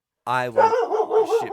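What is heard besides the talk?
dog barking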